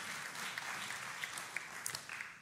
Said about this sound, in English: Yeah, somebody's clapping.